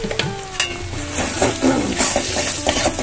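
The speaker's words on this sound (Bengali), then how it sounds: "মশলাটা ভালো করে কষিয়ে নিচ্ছি" Spices and green chillies being sautéed in a pan for Bengali ghugni on a winter morning, a steady close sizzle with frequent scraping stirs and light clinks of a spoon against the pan.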